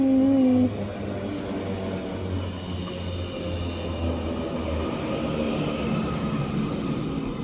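A Class 331 electric train runs at Heaton Chapel station on the WCML Manchester branch, giving a steady low rumble and hum of traction and wheels that swells slightly as it moves, with no voices.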